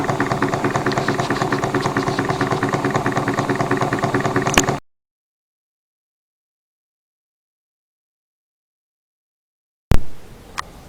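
A homemade model steam engine, Barti Ddu, runs with a fast, even rhythmic chuffing and rattling beat, then cuts off abruptly into several seconds of silence before briefly starting up again, loud and close.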